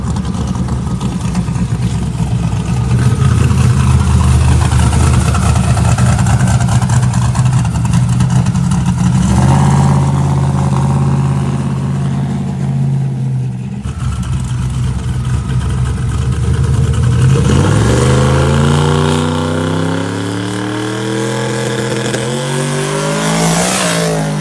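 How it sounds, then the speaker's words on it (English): A twin-turbo NASCAR truck on a test run roars loud and close, engine note climbing through gears, dipping briefly, then rising again in a sweeping accelerating pull, with no talking. "Here comes the Dale truck, baby. Test hit number 2 coming up"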